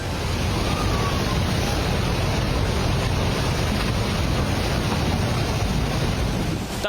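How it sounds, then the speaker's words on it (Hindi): Floodwater carrying debris, stones, mud and soil surges toward Rasuwagadhi in Nepal, a loud, steady roaring rush with wind-like noise that stays constant throughout, no voices. "तबाही के शोर के साथ सैलाबी पानी रसुआगढ़ी की तरफ लपका।"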